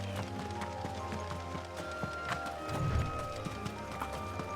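Horse hooves clip-clop steadily in Final Fantasy 16 over a constant musical background, with a brief low thump near the middle.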